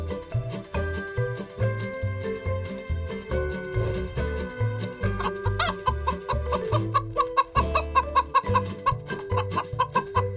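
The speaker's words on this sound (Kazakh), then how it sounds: "Бұл тауық." A chicken clucking in a quick, repeated rhythm of short, close clucks that continues throughout, accompanied by light cartoon-style music.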